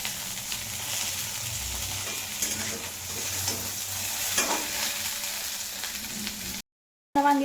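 Eggplant for bharit roasting in a hot pan crackles and sizzles steadily up close, with occasional clatter from turning the pieces, the sound briefly cutting out near the end before resuming.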